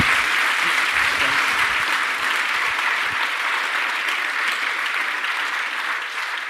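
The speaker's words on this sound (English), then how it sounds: "Please give them another round of applause." Applause from an audience at a conference closing ceremony, a dense sustained clatter of many hands clapping that fades slightly toward the end, heard without talk over it.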